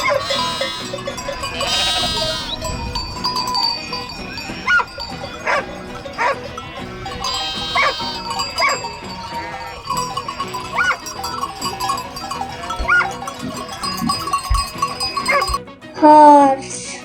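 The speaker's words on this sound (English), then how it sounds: "Sheep." Sheep bleat in wavering calls mixed with barking dogs, goat-like cries and a clanking bell in a lively farm-animal medley, ending with a short spoken voice.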